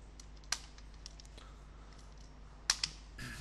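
Text typed on a computer keyboard: scattered light key clicks with a few sharper louder taps, faint and close in a quiet room, with no voices over them.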